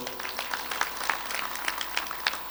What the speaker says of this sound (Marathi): त्यांच्यासाठी एकदा ह्या सगळ्या नियोजनासाठी टाळ्या वाजवा बरं